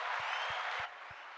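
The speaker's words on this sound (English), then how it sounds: "get him another round of applause" Steady clapping from a crowd, a broad wash of applause that drops slightly in level partway through, with faint regular low thumps underneath.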